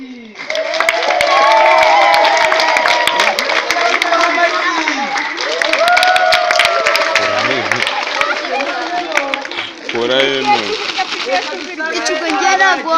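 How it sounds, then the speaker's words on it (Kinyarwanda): Guests at a children's birthday party break into loud, sustained clapping that fills the room, mixed with cheering and chatter, then fades as voices take over. "mureke tuyimana amashyi"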